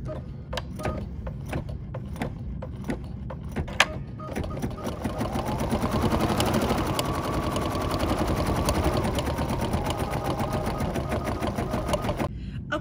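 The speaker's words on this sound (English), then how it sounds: "So I'm just gonna trim and stitch that window down" An embroidery machine stitches a window fill stitch, with rapid steady needle chatter and mechanical whirr that starts with separate taps and then runs continuously and fairly loud, with no talking.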